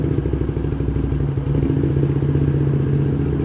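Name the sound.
motorcycle passing by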